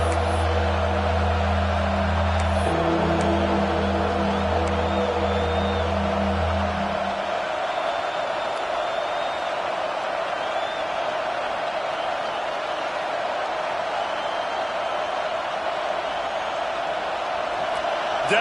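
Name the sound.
stadium crowd cheering at a football game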